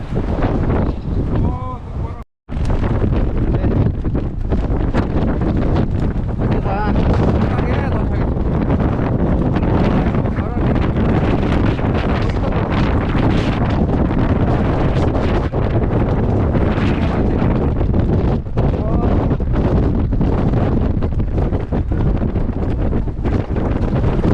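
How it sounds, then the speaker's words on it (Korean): Strong gusting wind at the Gajisan mountain hut, buffeting the microphone in a loud, continuous roar with a brief dropout near the start. "바람이 엄청나네 엄청나"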